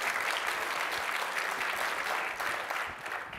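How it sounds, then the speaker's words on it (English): Clapping from an audience at a talk by a New Zealand film industry executive: a dense, even wash of many hands that holds steady and eases slightly near the end. "I do like a man who starts a clap."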